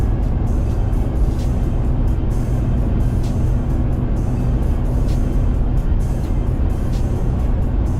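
Steady interior road rumble of a car driving down a road on a commute to work, loud and continuous low engine and tire noise with no breaks.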